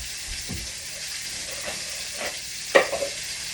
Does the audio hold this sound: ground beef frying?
yes